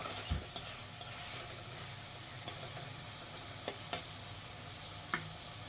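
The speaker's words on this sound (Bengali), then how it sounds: "শুটকিগুলো মশলার সাথে ভালো মতো 2 থেকে 3 মিনিট কষিয়ে নেব।" Dried mola fish stir-fried in spice paste, a low steady sizzle with occasional spoon knocks and scrapes against the pan, close but quiet, no voices.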